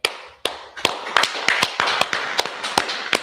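Separate sharp hand claps ring out one after another at an irregular pace in a small gathering of men at a meeting about brotherhood and addiction, close and loud, forming a scattered round of clapping with no voices.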